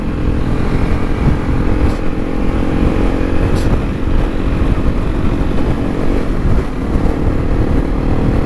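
Honda CRF300L Rally dual-sport motorcycle riding a dirt track in rural Victoria, Australia: a continuous, close engine drone mixed with heavy wind rumble, with no pauses or talk.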